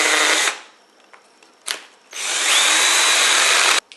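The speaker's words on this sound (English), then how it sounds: "We're going to drill the 15mm hole." A power drill whines loudly as it bores a 15mm hole through plasterboard in two bursts, a short one then a longer steady run, with a brief clatter between.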